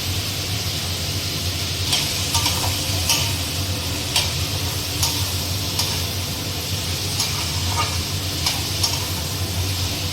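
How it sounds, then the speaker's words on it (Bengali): Chopped garlic sizzles in hot oil in a pan while chow mein is cooked at home, a steady close frying hiss broken by regular ticking clicks of stirring. "অল্প করে রসুন কুচি ছেড়ে দিয়ে দেবো"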